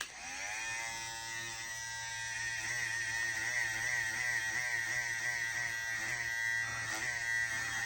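A T45 hair clipper with an FX1 N1 motor buzzes steadily up close, and its pitch rises and wavers as the motor revs and fluctuates throughout.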